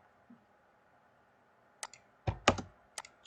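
Typing on a computer keyboard while coding a stopwatch program for an EV3 robot: a few scattered, close key clicks with a quick cluster near the end over quiet background.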